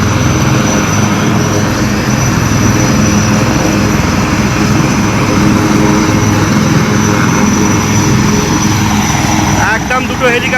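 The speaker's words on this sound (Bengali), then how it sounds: "কলকাতার ব্রিগেড প্যারেড গ্রাউন্ড থেকে উড়ে গেল দুটো হেলিকপ্টার।" Two army helicopters on the Brigade Parade Ground in Kolkata during a military drill, a loud, steady, close rotor and engine roar with rhythmic chopping, with a voice talking faintly beneath it.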